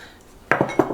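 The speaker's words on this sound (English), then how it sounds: "Put that in, and then give it a stir." A spoon clinks against a slow cooker pot while chili seasoning is stirred into beef, giving two or three close, distinct taps after a quiet start.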